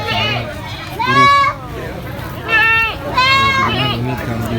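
An emaciated, poorly conditioned goat bleats three times in quick succession, loud and close, each call a wavering cry, with background chatter and babble from people nearby.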